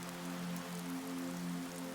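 Steady rain falls on the stony path to a lake cabin's front door, a soft, even hiss that never lets up, with a low humming drone held quietly beneath it.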